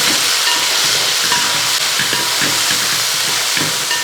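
Onion, ginger and garlic fry in a pan for a beef intestine fry, making a loud, constant sizzle broken by scraping stirs, with no voices.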